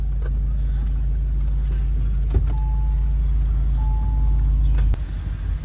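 A BMW X5 E70 with a V8 engine idles with a deep, steady exhaust rumble close by, shifting briefly near the end.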